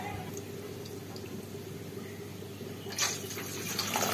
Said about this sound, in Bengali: আচ্ছা আমি জলটা অ্যাড করে দেব।